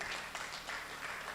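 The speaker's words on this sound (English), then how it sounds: "Can we please clap for all of them again?" An audience claps together at Wesley College's 120th anniversary celebration, producing a steady, fairly faint patter of applause throughout.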